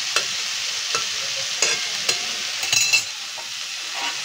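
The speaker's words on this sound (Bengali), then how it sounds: "ঢাকনাটা খুলে আবার মাঝে মাঝে একটু নাড়িয়ে দেবো, যাতে কড়ার নিচে লেগে না যায়।" Chicken sandwich filling stirred in a pan (kadai) while it cooks and releases water, a constant loud sizzle broken by several scraping clinks of the spoon against the pan, close up and without talk.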